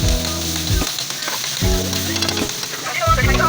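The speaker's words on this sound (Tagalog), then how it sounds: "nagsisimula ng magprito ng patatas at carrots para sa kanyang kaldereta" Potatoes and carrots for kaldereta fry loudly in a hot pan, giving a steady close sizzle. Three separate low droning tones rise and fall beneath it, and there is no speech.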